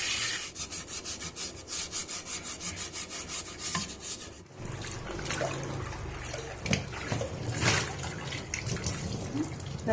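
Unglazed clay cooking pots being scrubbed hard with a scrubber before seasoning, a close rhythmic rasping rub with some wet water sounds joining partway through, and no talking.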